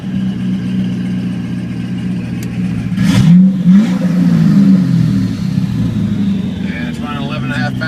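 A twin-turbo LS3 Pontiac GTO running 11.5 pounds of boost revs with its exhaust open, a loud, close idle rising into a throaty rev and falling back, with turbo whoosh and a short spoken aside.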